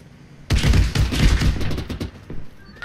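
Heavy gunfire in the military shooter Arma in Zeus mode: a dense burst of overlapping shots and thuds begins abruptly and keeps rattling, loud and close, with no speech.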